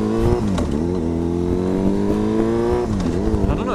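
Motorcycle engine revving inside a road tunnel, a loud, steady booming drone with two dips where the revs drop and climb again, reverberant and close.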